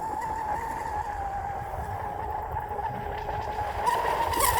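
A Blackjack 42 electric RC boat runs at full throttle into the wind, its motor holding a steady high whine over rushing water and wind noise, fairly distant and continuous.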